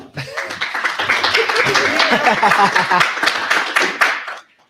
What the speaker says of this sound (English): So round of applause for Ronnie first.